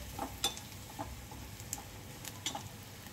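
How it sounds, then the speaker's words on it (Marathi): Black masala, red chili powder and half a spoon of turmeric being stirred into soybean curry in a home kitchen, heard as faint scattered spoon clicks and light scraping over a soft sizzle, with no talk. "आणि थोडासा आपला काळा मसाला आणि अर्धा चमचा हळद चांगलं मिक्स करून घ्यायचं"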